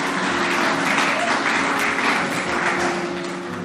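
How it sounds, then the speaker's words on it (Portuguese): A church congregation applauds loudly and steadily during a sermon on the Lord's Supper, a dense wash of clapping that holds for the whole stretch over faint sustained low tones. "Você pode dar um aplauso mais forte a Jesus por isso?"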